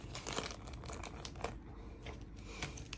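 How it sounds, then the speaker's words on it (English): A plastic bag crinkles and rustles close up at low volume, a series of irregular sharp crackles as it is handled and folded, with no talking. "And then you get a plastic bag and you pop it in there."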